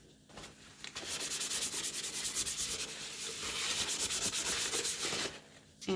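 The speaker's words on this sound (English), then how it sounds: "I'm actually just going to clean it off real quick with just some rubbing alcohol." A plastic cold cup is wiped clean with rubbing alcohol, making a fast, rhythmic rubbing and squeaking close up that runs steadily for several seconds before stopping.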